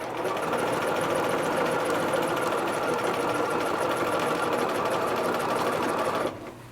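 A sewing machine runs steadily while stitching to gather fabric, a close, continuous rapid mechanical whir that holds evenly for about six seconds and then stops abruptly.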